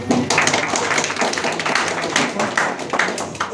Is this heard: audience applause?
yes